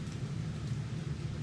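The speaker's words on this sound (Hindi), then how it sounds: "बाहर हो रही है बारिश मस्त वाली" Rain falls steadily outdoors with a low rumble of thunder, a continuous moderately loud wash of sound with no voices.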